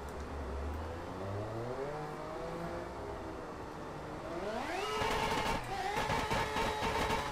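A Mazda RX8 revs hard in the Assetto Corsa racing game, its rising engine note climbing steadily and becoming louder and higher-pitched toward the end, running continuously without talk.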